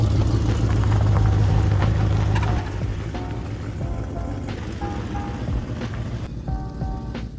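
A Ford Torino drives off on a brake test, its engine idling loudly at first then settling into a steadier, quieter rolling drone with faint clunks and squeaks.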